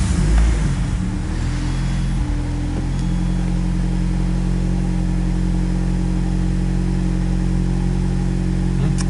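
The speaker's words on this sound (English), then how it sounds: "Engine sounds good. It's running nice and smooth." A Nissan B14 200SX SE-R engine runs at a steady, loud idle after a brief rougher moment at the start, holding a smooth, even drone close to the microphone with no one talking.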